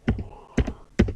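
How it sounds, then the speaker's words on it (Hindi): Keys on a computer keyboard clack as dates are entered into Microsoft Access school management software. Three crisp, close bursts of keystrokes come in quick, evenly spaced clusters, with no talk. "for example I am typing"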